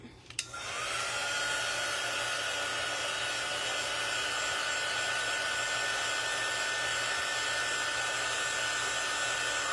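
A hair dryer blows steadily on a freshly lettered Memorial Day craft project, switching on with a brief click and then holding one continuous, even whoosh close by for the rest of the clip, with no talking.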